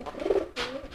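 A fantail pigeon coos softly nearby, a low throaty warble followed by a brief breathy rustle, with no voices.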